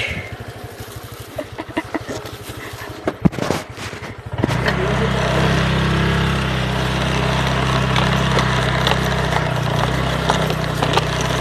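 A Honda Click 125i scooter engine sputters with rapid uneven pops at first, then settles into a loud, steady, close-up running drone that holds for several seconds.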